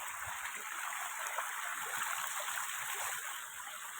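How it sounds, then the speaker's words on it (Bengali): A large volume of water rushing and flowing outdoors, a steady broad roar that stays even throughout with no pauses, heard on its own. "প্রচুর প্রচুর জল।"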